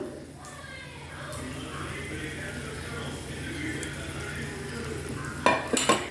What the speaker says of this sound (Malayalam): അതിനുശേഷം ഒന്നുകൂടെ നമുക്ക് ഇളക്കി യോജിപ്പിക്കാം